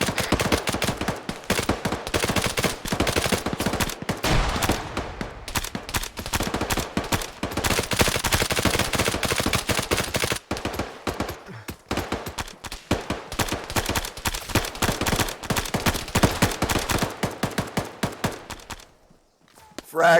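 Sustained rapid gunfire during a tactical training exercise, dense loud bursts and shots continuing almost without pause for the whole stretch before cutting off near the end.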